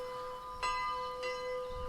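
A shopkeeper's bell in a bodycam-style video game, two clear ringing strikes about half a second apart, each leaving a sustained metallic tone that lingers over quiet background ambience.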